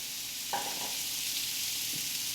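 Onions sizzle steadily in a steak pan, a bright continuous hiss with a couple of faint knocks of stirring or handling.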